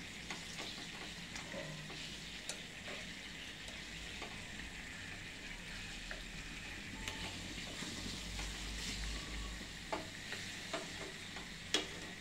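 Stuffed capsicum sizzles in a frying pan, a soft continuous crackle of hot oil with occasional light clicks and scrapes as the peppers are turned over, quiet and close without talking.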